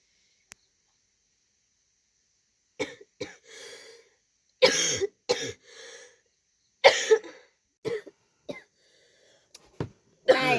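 A person coughs in a quiet indoor room, a run of separate harsh coughs and throat-clearing bursts spread over several seconds, close and fairly loud against silence.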